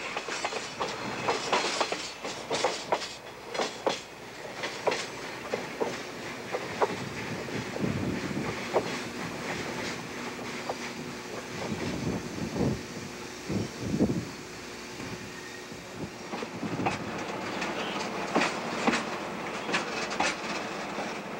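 Heavy freight train hauled by Algoma Central Railway 3,000 horsepower SD40 diesel locomotives on a grade, with steady wheel rumble and clickety-clack of passing cars, bursts of louder low engine roar, and wind buffeting the microphone throughout.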